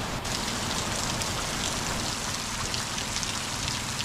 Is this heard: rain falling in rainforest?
yes